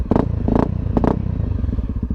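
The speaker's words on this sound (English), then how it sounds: "FMF exhaust sounds really nice." A Honda CRF 250 dirt bike fitted with an FMF exhaust blips its throttle three quick times, each rev rising sharply over a rough, crackling idle that chugs on close by.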